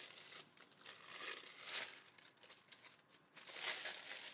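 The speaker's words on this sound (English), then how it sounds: "Just going to cut off the handles." Thin plastic grocery bag crinkling and rustling in close bursts as scissors snip off its handles, with louder crackles near the middle and end.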